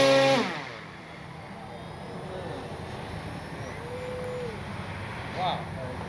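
An FMS Skylane Cessna 182 radio-controlled model airplane engine buzzes in flight, loud at first, then fading to a thin, distant whine that drifts in pitch before briefly surging again. People talk nearby.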